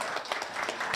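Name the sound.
applause at a stock exchange listing ceremony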